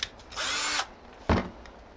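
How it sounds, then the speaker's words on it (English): A power drill whirs in a short burst through the plastic of a BMW S1000R motorcycle pillion seat, stops, then a sharp knock follows; close by, with no voices. "Just trying to push it through to the plastic so I can just drill."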